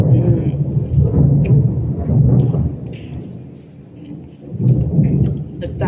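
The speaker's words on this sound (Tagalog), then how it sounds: "Ayan, narinig nyo? Umukulog. Umuulan kasi." Thunder rumbles low and heavy during steady rain, a deep rolling roar rising and falling over several seconds beneath the hiss of rainfall, loud and enveloping, with a voice occasionally audible.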